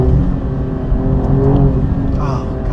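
A 2017 Alfa Romeo Giulia Quadrifoglio accelerates hard along a curvy road, its engine a loud, continuous low drone that holds strong throughout the short stretch.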